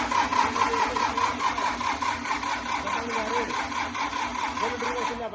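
A newly fitted engine in a Swaraj tractor runs steadily after its first start, a continuous mid-pitched mechanical drone with a tapping, rattling rhythm, close and moderately loud with no talk over it.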